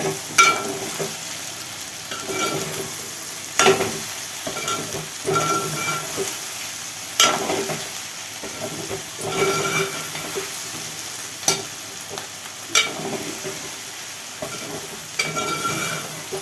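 Okra frying in oil in a pan on a low stove, stirred with a utensil: steady close sizzle with repeated scraping stir strokes at irregular intervals, no talking.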